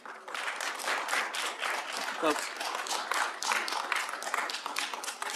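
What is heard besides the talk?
audience applause at a city council meeting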